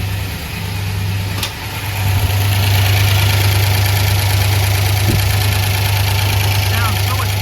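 A car engine with a freshly fixed 4-barrel carburetor idles steadily and loudly nearby, a smooth low drone that rises slightly after a brief dip, with no talk over it.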